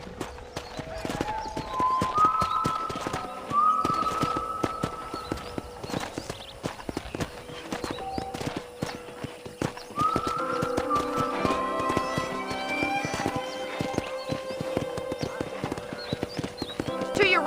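Horse hooves clip-clop steadily in Red Dead Redemption, a rhythmic trot with music playing beneath and a brief whinny, continuing through the whole stretch at moderate loudness.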